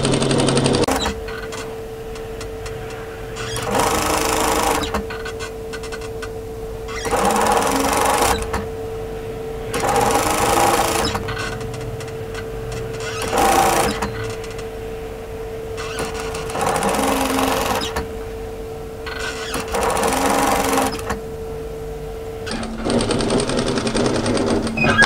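A sewing machine stitches a tee shirt neckband close to the raw edge, running in loud steady bursts of several seconds each, separated by short pauses, close up with no talking.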